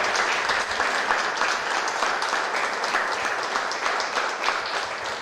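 A church congregation applauds, with dense, sustained clapping that fills the room at a steady level for several seconds.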